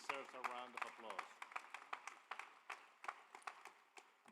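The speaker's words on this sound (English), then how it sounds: "that really deserves a round of applause" Commencement audience at a university ceremony breaks into applause after a voice speaks briefly, the clapping arriving as scattered, uneven bursts that keep going to the end.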